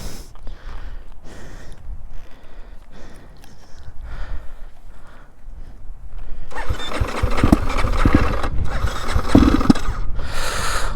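A dirt bike's engine is being started. Several sputtering, uneven cranking attempts come first, then the engine catches and runs loud and rough, revving unsteadily close by.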